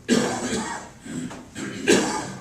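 Three harsh coughs, close and loud, spaced about a second apart with brief pauses between.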